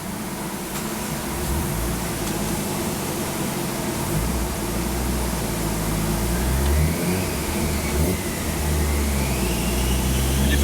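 Mazda RX7 rotary engine with a single turbo conversion running on a dyno, a loud, close, sustained buzzy drone that climbs gradually in pitch as it builds revs, heard alone without talk.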